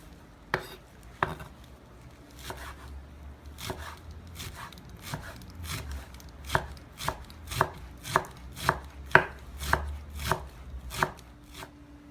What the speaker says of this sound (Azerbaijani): Soğanı qovurmağa qoyduq, göyərtilər doğrayıb hazırlayırıq. Göyərtilər nanə, kərəviz, cəfəri, şüd.